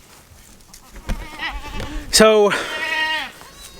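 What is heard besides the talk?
mother goats bleating at stock tank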